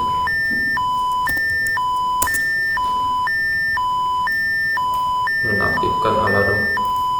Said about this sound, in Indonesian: Nonaktifkan alarm.